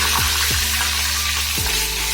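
Cumin and curry leaves splutter in hot oil, a loud, dense, steady sizzle close by, broken by a few soft low pops.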